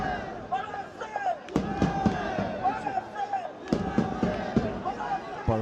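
Home crowd at Changlimithang stadium in Paro, Bhutan, cheering during an AFC Challenge League football match, a drum and bullhorn leading the chants; a steady, lively roar with sharp drum hits and shouts, close and loud, commentary over it.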